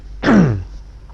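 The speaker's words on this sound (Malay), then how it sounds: "batuk" A single short, throaty cough from a man during an Islamic Quran tafsir lecture, close and distinct, with no other sound around it.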